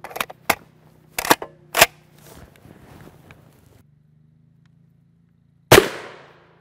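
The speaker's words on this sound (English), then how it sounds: "We're gonna start off with our 13-inch SCAR 17S SBR here." Shots from a suppressed 13-inch SCAR 17S SBR rifle built on an Imperial Arms receiver, several sharp close reports in an uneven burst early on, a pause, then one loud shot with a trailing echo.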